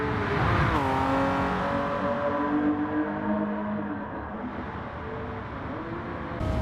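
A McLaren F1 in Gran Turismo 7 revs hard and climbs through the gears, its engine note rising and dropping at each shift. The sound stays loud and continuous, with a fresh surge at the end.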